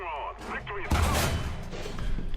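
A tank cannon fires in the War Thunder combat game, one heavy booming blast with a rumbling tail, mixed with other game sounds.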